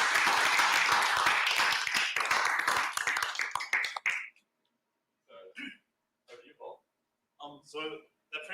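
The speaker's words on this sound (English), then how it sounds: "let's get Schulte, Tristan, and Tristan a big round of applause." Audience applause closes an evening machine learning for robotics event, a dense burst of clapping for about four seconds that then stops, followed by scattered brief sounds and near silence.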